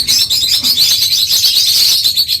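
A pair of albino red-eye lovebirds chirp rapidly and continuously at close range, with bright, overlapping tweets filling the whole moment.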